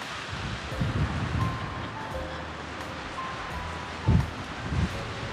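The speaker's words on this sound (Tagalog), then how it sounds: "hinahampas ng hangin" Steady wind rushes and rustles through pine branches, with a few louder gusts and low thumps of wind buffeting the microphone.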